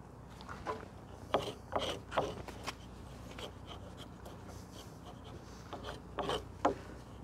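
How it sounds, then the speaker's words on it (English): Chisel paring oak frame joints for roof rafters, heard as soft, quiet wood-scraping strokes in irregular bursts of a few short rasps each, close by with no talk. "Finish those with a chisel, tidy them up."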